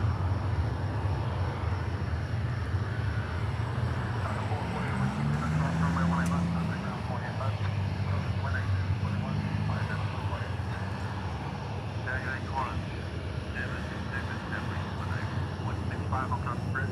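A Qantas airliner at DFW airport, its engines producing a steady broad roar with a low droning hum that swells and eases gradually, while people talk over it.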